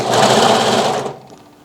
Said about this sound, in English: I'm just pulling as I serge it just to make sure everything is pulled down.